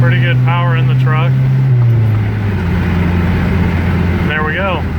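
A 4-cylinder truck engine with a manual transmission drones loudly from inside the cab, its pitch dropping at a gear change before it pulls on again, while someone speaks briefly at the start and end.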